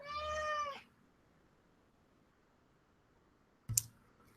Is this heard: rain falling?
no